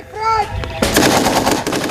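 Gunfire in a firefight, with a dense rapid burst of automatic fire that breaks out loud and close after a brief tonal sound at the start.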